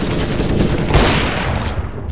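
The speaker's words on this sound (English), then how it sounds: "you shot the gun!" Dense burst of rapid gunfire from a first-person shooter match, loud and continuous for about two seconds, with no talk over it.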